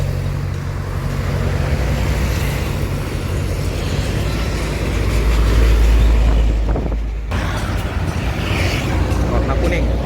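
Heavy bus engine rumble in busy midday traffic, the Jetbus 3 coach passing close with a loud low drone that swells around the middle, wind buffeting the microphone, no speech.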